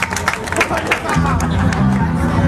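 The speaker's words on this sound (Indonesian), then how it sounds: "Satu tepuk tangan untuk Den Bromo." Crowd applause and clapping at an acoustic live show in a container night market, a dense burst of claps and babble from the audience, fairly loud and close, with a low hum underneath.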